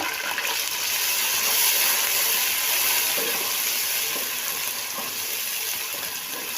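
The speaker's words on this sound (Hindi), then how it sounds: "लहसुन अदरक मेरा भून चुका है" Steady, close sizzling of garlic-ginger paste frying in hot oil, a continuous crackly hiss with occasional soft pops and no talking.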